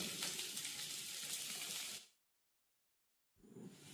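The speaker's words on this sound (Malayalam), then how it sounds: "അതിലേക്ക് ഇനി നമുക്ക് ചെറിയ ഉള്ളി 200 ഗ്രാം ഞാനിവിടെ എടുത്തിട്ടുണ്ട്. അത് ചേർക്കുക, നല്ലപോലെ വഴറ്റുക." Shallots sautéing in a clay pot for pepper chicken give a steady close sizzle for about two seconds, then cut to silence before the frying noise returns more quietly.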